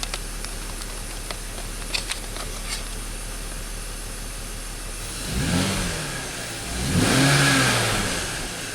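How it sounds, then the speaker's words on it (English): A BMW X5 engine with a misfire idles roughly, then revs up twice, the second rise longer and louder, each surge climbing and falling back toward idle. "When I revved the engine up, things get better."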